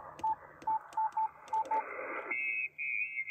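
Yaesu ham radio receiver reception with no QRM filtering: a steady hiss of band noise with several short beeping tones, then a sustained higher whistling carrier tone, moderately loud with no voices.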